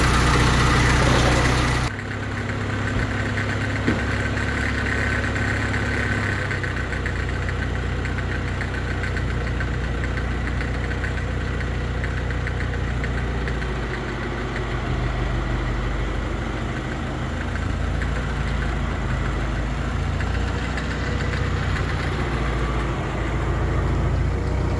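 A 1914 Ford Model T engine idles steadily just after starting, a loud, close, rough mechanical chugging that runs on without pause and with no voices.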